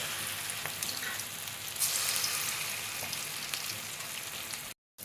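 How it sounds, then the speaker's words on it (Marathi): Cabbage bhaji fry in a pan of very hot oil, giving a steady, close, crackling sizzle. A brief louder burst comes partway through before the sound cuts out abruptly near the end. "भजी तळत असताना गॅसची फ्लेम आपण हाय ठेवायची आहे, कारण ती कोबी आहे आणि त्याला तळताना थोडा वेळ लागणार"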